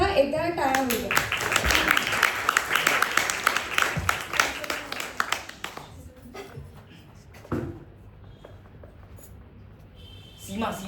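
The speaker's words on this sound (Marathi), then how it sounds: "तर त्याच्यासाठी सुद्धा एकदा टाळ्या होत्या" Audience clapping at a school manuscript book launch ceremony, a dense burst of applause for the opening seconds that thins out and fades, with a room murmur afterward.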